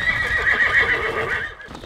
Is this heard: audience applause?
no